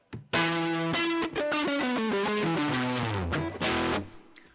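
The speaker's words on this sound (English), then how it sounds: "Just know that it adds a pleasing distortion effect to the sound, essentially." Tanh distortion applied to a synthesized tone gives a loud, buzzy, harmonically rich sound that steps down in pitch through a short melodic run, with brief gaps, heard alone.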